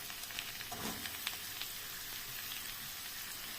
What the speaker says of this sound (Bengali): ভেজে নিয়ে আমি এর মধ্যেই পেঁয়াজগুলো দিয়ে দেবো